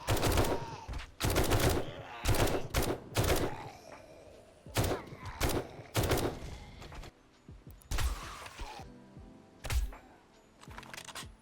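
Suppressed gunfire in the video game 7 Days To Die, a series of sharp, close shots in quick bursts and single pops separated by short gaps, loud and dry with little else around.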